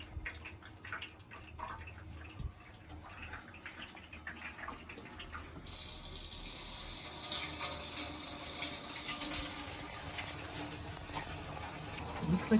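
Water leaks and drips from the sump sluice of a Miele Professional WS5073 washing machine, soft trickling close by that turns into a steady, louder rush of running water partway through.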